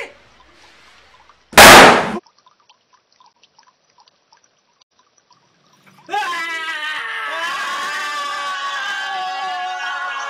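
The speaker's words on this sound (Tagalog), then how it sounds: "Naglaro kami ng paputok, yung patagalan." A New Year firecracker, lit after a counted-down contest, bursts once near the start with a sharp, loud blast, followed by quiet and then a stretch of noisy shouting and laughter.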